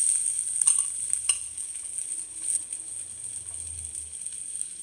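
Urad dal and finely chopped ginger frying in hot oil for a rainy-season ginger chutney, a soft steady sizzle with a few sharp pops and crackles near the start, close by with no talking.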